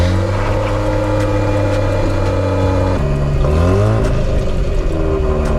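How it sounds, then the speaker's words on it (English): A Mazda RX-8 cold start in a garage: the engine idles loud and close with a steady drone, then its revs rise and fall briefly before settling again. "Let's get a little cold start from the RX-8."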